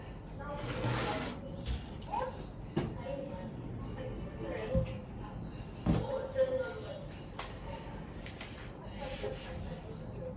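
A sewing machine stitches the shoulder seam of a twist-neckline top, giving a quiet, steady mechanical whir broken by a few sharp clicks and handling knocks.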